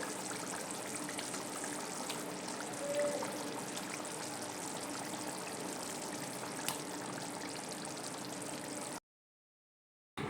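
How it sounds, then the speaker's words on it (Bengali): Water pours steadily into a pan of spiced gravy, a continuous close trickle and splash running alone for about nine seconds before cutting off. "মশলা থেকে তেল ছেড়ে গেলে জল দিয়ে নেব"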